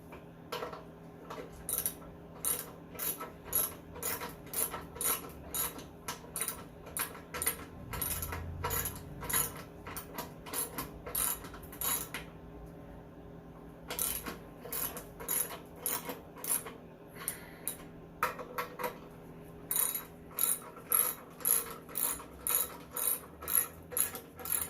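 Straps being ratcheted back onto a vintage Generac Niagara generator with a Tecumseh 5 hp engine, heard as bursts of rapid, close metallic clicking separated by short pauses.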